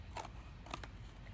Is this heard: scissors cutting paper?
yes